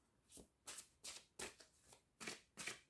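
Tarot cards are shuffled by hand in seven or eight steady, papery bursts, close and fairly soft, with no talking.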